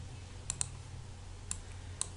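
Sharp computer mouse clicks while working in WinCC Flexible 2008 HMI software, a handful of isolated taps at irregular intervals, one quick double click among them, over a low steady background hum.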